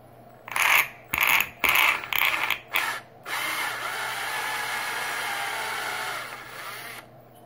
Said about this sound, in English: I'm going to drill my hole into the sign.